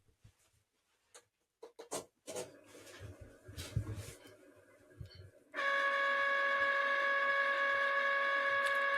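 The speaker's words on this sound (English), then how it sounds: "I'm going to get my Cricut machine on." A Cricut cutting machine starts up after a few scattered handling clicks and taps, then holds a steady, bright mechanical whine with a constant hum through the final seconds.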